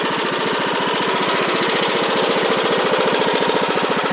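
A Poulan Pro PP19A42 riding mower engine runs steadily close by, a loud even chugging with a fast regular pulse and no talk over it.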